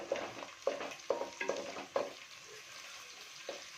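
An egg cooks in a pan, with sizzling and a series of sharp scraping or tapping strokes from a utensil, about six distinct hits in an uneven rhythm over a faint background hiss.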